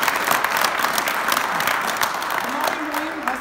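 An audience at a traffic awareness event breaks into sustained applause, dense and even, with a voice briefly rising under the clapping near the end.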